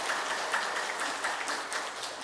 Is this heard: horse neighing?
no